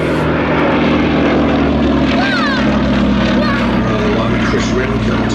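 Westland Lysander propeller aircraft flying, a steady loud engine drone with propeller hum running through the whole stretch; faint voices may be mixed in beneath.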